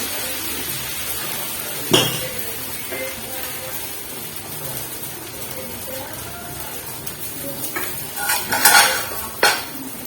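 Dosa cooking on a pan on a gas stove in a home kitchen: scraping and clinking of utensils against the pan with a low sizzle, a few sharp metallic knocks near the end.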